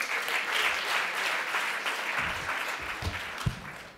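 Applause for a performer welcomed onstage at a Sunday evening evangelistic church service, a broad wash of clapping from a crowd that gradually thins, with a few louder individual claps and thumps near the end.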